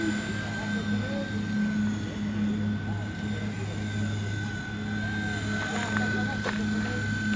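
A small Wltoys V911 radio-controlled toy helicopter flies nearby with a steady high-pitched whine and buzzing rotor hum, while someone talks over it.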